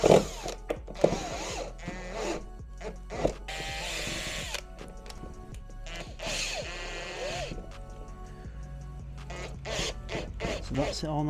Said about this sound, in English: what I'm going to do is I'm just going to screw in through the back